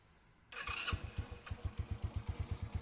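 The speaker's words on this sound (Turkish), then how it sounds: "Şimdi marşımıza basalım." A Kuba X Boss motorcycle's starter whirs, then the engine catches without throttle and settles into a steady, rhythmic low putter at idle, fairly close.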